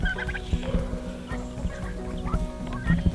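A flock of six turkeys and eleven hens calls close by, turkey gobbles and soft clucks overlapping in a busy, continuous chatter.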